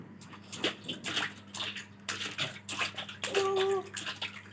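Water splashes and drips as a child's face is washed in a bathtub, with bursts of sloshing and splashing under an adult's scolding voice and a child's whines and cries.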